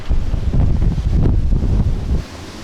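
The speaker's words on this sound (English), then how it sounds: "It's a bit windy, isn't it?" Gusts buffet the microphone on a windy hilltop, loud, low rumbling blasts that roar continuously before easing off abruptly near the end.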